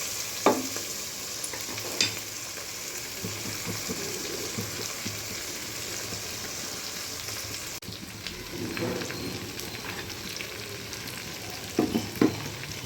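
Goat trotter bones for Telangana-style paya curry frying in a pan, a steady sizzle with occasional stirring scrapes and clinks near the start and end, no talking.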